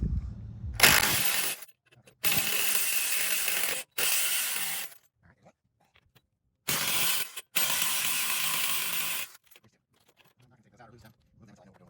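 A ratchet fitted with a 1/2 inch socket clicks rapidly in several long bursts while bolts are removed from the front end of a Jeep Grand Cherokee Trailhawk, separated by short pauses.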